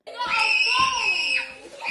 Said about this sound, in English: It's the screams for me.